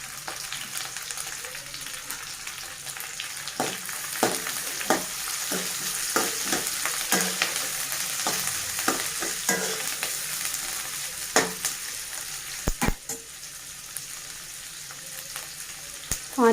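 Green chillies and curry leaves fry in hot oil for a Telangana-style dappadam, with a continuous sizzle and repeated clattering stirs and scrapes of a spoon against the pan. A few sharper knocks come near the end.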